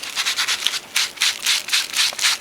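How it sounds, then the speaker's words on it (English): Sandpaper rubs rhythmically over a tanned marten hide in quick back-and-forth strokes, a steady close scratchy hiss with no talking. "I'm just doing the last step here, I'm sanding."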